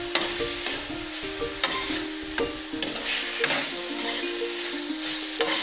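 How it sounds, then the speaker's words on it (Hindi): Chicken pieces frying in a pan with tikka masala powder, a steady close sizzle broken by repeated scraping and stirring strokes, with no voices. "चिकन का जब तक कलर नहीं ना बदलता तब तक हमने इसको ऐसे फ्राई करना"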